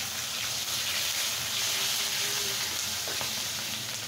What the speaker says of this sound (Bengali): আমি এখন এটার ভিতরে কাঁচা মরিচটা দিয়ে দিচ্ছি, ফালি করে রাখা অনেকগুলি